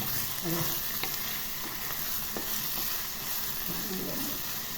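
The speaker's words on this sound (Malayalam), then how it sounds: "ഉള്ളി നല്ലോണം വാടട്ടെ വാടട്ടെ വാടാൻ വേണ്ടി വേഗം കുറച്ച് ഉപ്പ് നമുക്ക് ഇട്ട് കൊടുക്കാം" Onions with salt sautéing in a pan for a Kerala sardine chilli curry, a steady low sizzle with a few soft stirring scrapes and light clicks, close up and without any talk.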